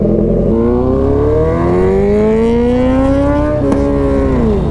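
Royal Enfield Himalayan motorcycle riding with its engine and exhaust droning loudly and steadily, the pitch rising smoothly as it accelerates, then dropping sharply as the revs fall near the end.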